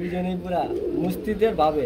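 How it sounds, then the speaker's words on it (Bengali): Pigeons coo repeatedly at a crowded pigeon market, the soft throaty calls overlapping with nearby human voices. "এই যে কবুতরগুলো যে দেখাইতেছি"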